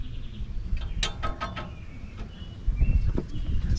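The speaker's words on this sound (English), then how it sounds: "I'm gonna try and jack it up" A jack being worked under a cabover truck during a clutch replacement, close metallic clicking and ratcheting strokes in a short burst, then heavier low clunks and creaks toward the end.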